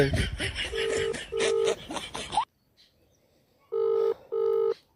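A telephone rings without being answered, sounding in paired electronic trills: two bursts under background voices and room noise, then a short silence, then two more clean rings on their own.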